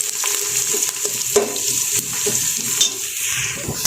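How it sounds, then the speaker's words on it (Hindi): Onions browning in a hot pan for fish salan, with a steady bright sizzle and repeated scraping stirs and a few clinks of the spoon against the pan, close and fairly loud, no talking. "प्याज हमारा ऑलमोस्ट यहाँ पे ब्राउन हो चुका है"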